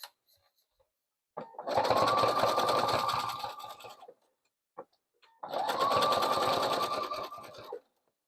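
A sewing machine stitching fabric tubes together for a jelly roll rug, two steady runs of about three seconds each with a rising start, close and loud, separated by silence and a click.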